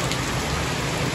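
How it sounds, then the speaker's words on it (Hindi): Heavy rain pours steadily on a mountain road, a dense continuous hiss with no pauses, loud and close throughout. "तगड़ी बारिश हो गई भाई"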